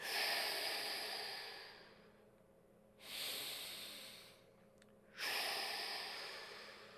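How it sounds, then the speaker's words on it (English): Three slow, deep breathing cycles, each a loud rushing inhale through the nose that fades into a softer exhale through the mouth, close and unaccompanied. "we're going to take deep breaths in through the nose, out through the mouth"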